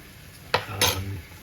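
A spoon scrapes through a thickening sauce in a pan, the sauce for smoked and braised short ribs with white miso, apple cider and brandy, giving two short clear stirring strokes over a faint background.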